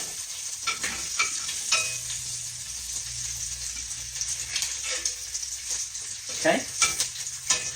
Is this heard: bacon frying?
yes